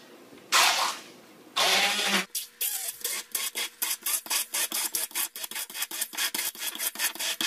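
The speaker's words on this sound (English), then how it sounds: "I'm going to use my immersion blender again." An immersion blender roars in two strong bursts, then gives a rapid series of short, grinding pulses as it works through a thick vegan dip.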